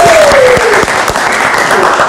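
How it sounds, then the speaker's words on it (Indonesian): A studio audience on a late-night talk show claps loudly for a young guest, dense and sustained, with a brief gliding tone and some background voices mixed in. "Kita berikan tepuk tangan sekali lagi."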